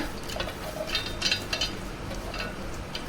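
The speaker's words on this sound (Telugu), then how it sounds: "నెక్స్ట్ నేను ఇక పల్లీలు వేస్తున్నా" Peanuts tossed into a pan of green chillies, onions and garlic for green tomato chutney, giving light rattling clinks and a few sharper metallic taps over a steady low sizzle, with no talking.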